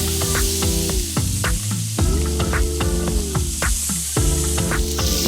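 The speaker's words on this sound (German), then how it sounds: "Und jetzt wird es schön kräftig angebraten." A veal chop sears loudly and steadily in a hot pan, with a dense continuous sizzle and crackle alongside recurring rhythmic tonal sounds in the background.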